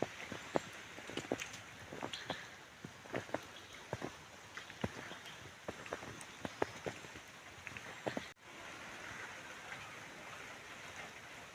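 Rain in the lower areas of Mandi district, Himachal Pradesh, falling steadily with scattered close drips and patters over a soft hiss, faint and without voices.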